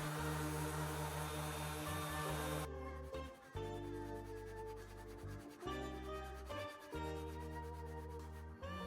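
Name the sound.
orbital sander sanding wood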